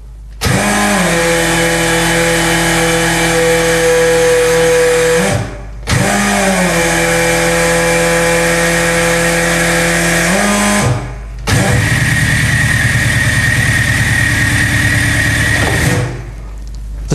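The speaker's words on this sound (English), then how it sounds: "Press the operate button. Then we can rotate the drum." A pneumatic telescopic drum rotator turning a drum, a loud steady air-driven mechanical whir running in three long bursts separated by brief pauses, the last burst rougher and more rattling.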